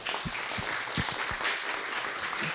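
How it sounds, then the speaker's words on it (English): Applause from a lecture audience, a moderate wash of clapping hands with a few distinct sharp claps standing out, steady over a couple of seconds with no talk. "can I get a round of applause?"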